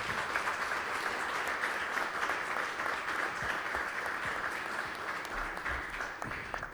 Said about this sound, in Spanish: Ruego para el señor notario un fuerte aplauso en agradecimiento.